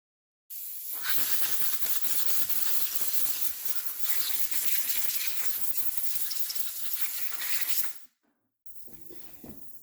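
Ultrasonic cleaner running with carburetor parts inside, a steady loud hiss and buzz lasting about eight seconds before cutting off, followed by quieter faint handling noises.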